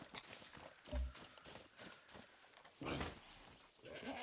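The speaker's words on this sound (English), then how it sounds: "Hello, goat." A goat in the video game Far Cry 6 bleats briefly amid soft footsteps and outdoor ambience, faint and fairly short.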